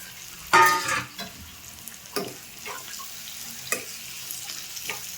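Tomato and onion pieces fry in a pan, a continuous close sizzle with a loud burst near the start and a few sharp scraping stirs scattered through, no voices.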